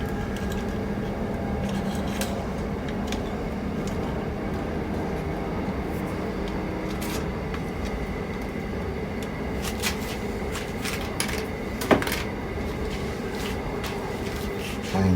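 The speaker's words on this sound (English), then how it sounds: "I think that's a train, not an aircraft." A nearby train passes as a steady, broad rumble that holds for the whole stretch, with scattered clicks and knocks from close by on top.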